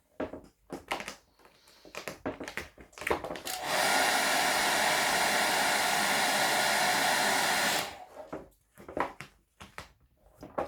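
A heat gun warms carbon-look vinyl wrap on a motorcycle fairing, sounding as a steady loud blowing roar for about four seconds. Scattered handling and crinkling noises come before and after it.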